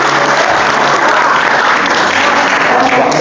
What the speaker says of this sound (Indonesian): terima kasih Abi, tepuk tangan